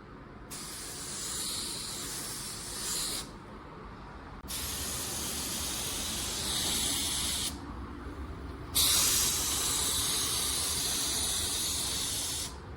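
A Porphis 717 spray gun lays automotive clear coat in long, loud, steady hissing bursts, cutting off briefly between passes and starting again, with no talking.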